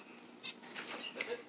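Birds in a cage at a pet supermarket flap their wings in a few soft, quick fluttering bursts, faint and nearby against a quiet store background.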